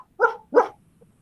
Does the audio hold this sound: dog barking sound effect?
yes